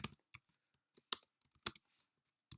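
Quick bursts of clicks from fingers typing Java code on a computer keyboard: a dozen or so sharp, uneven keystrokes in short runs with brief pauses, close and quiet.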